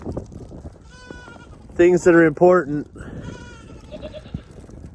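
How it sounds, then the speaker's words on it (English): Baby goats bleat in a loud, close burst of several wavering cries, with someone speaking softly before and after over quieter bleats in the background. "like little baby goats, you know?"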